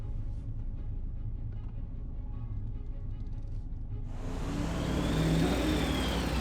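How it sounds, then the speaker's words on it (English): Morgan motorcars from a fan club driving tour setting off from a station car park in Wales, a steady engine drone that swells into louder revving and passing whoosh toward the end. "It appears a Morgan Motorcar fan club were having a driving tour of Wales and had just set off to continue their trip"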